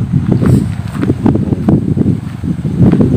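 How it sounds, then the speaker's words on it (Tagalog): Sea breeze gusts against the microphone by the shore in Oriental Mindoro, producing a loud, uneven low rumble with fluttering bursts and rustling texture throughout, no voices present. "sarap na simoy ng hangin"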